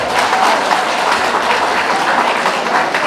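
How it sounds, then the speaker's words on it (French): An audience applauds at a charity gala for autism awareness in aid of autistic children, loud and close, the clapping steady and thick throughout. "Applaudissez pour l'autisme, s'il vous plaît."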